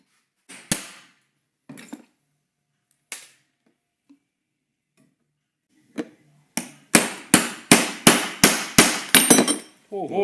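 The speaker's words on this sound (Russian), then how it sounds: "Охрененные молотки современные." A modern hammer strikes sharply during a Subaru Outback lift installation: a few scattered taps early, then a quick run of about eight loud, evenly spaced blows close by.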